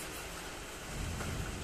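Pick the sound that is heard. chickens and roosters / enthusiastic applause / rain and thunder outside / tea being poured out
rain and thunder outside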